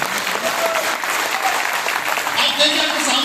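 A seminar crowd bursts into loud, sustained applause, the clapping thick and even while a speaker's voice carries over the top.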